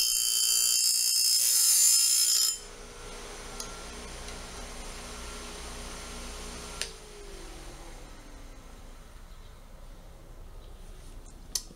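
A harsh, loud grinding burst from sharpening the teeth of a mobile sawmill band saw blade lasts about two and a half seconds, then stops abruptly, leaving a quiet room with a few faint ticks and clicks.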